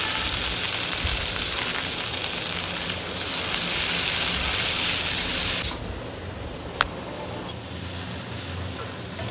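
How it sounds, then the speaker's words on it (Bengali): Fish pieces and beans slide into a hot kadai, giving a steady broadband sizzle that runs loud for several seconds and then drops to a softer, quieter hiss. "এদিকে মাছে ঢুকে বিনস রয়েছে, তো আস্তে আস্তে কড়াইতে দিয়ে দেওয়া হচ্ছে।"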